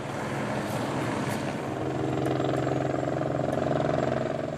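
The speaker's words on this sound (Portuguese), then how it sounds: "No helicóptero da Record, seguimos para um lugar que o Gugu ama." A helicopter drones steadily from close by, its rotor thudding in a fast, even pulse over a low engine rumble.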